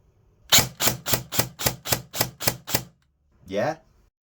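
Burst of nine rapid, evenly spaced sharp shots from an ARES Rapax SR25 DMR airsoft rifle running its current motor, loud and close, followed by a brief voice.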